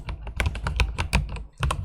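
Quick, uneven clicking of keys on a computer keyboard while text is entered during a web layout design session, close and clear with short pauses between bursts.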